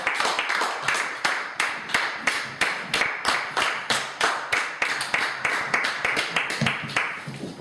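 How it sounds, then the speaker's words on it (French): Rhythmic clapping from a church congregation during a worship service, steady hand claps repeating throughout at a brisk, even pace, loud and filling the room with no clear voices on top. "Acclamez très fort le Seigneur."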